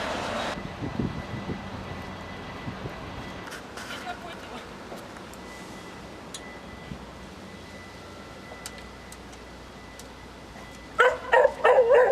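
A border guard service dog from a mobile canine unit barks a few times, with a short yip early on and a sharper burst of barks near the end, over an outdoor background with talking.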